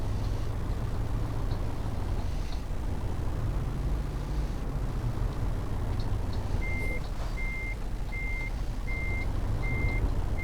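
Euro Truck Simulator 2 multiplayer: a truck reversing gives steady, evenly spaced warning beeps starting partway through. They sound over a constant low engine rumble, with no talk.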